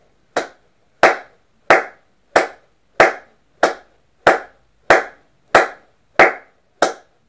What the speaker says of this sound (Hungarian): Tapsoljunk együtt tákat.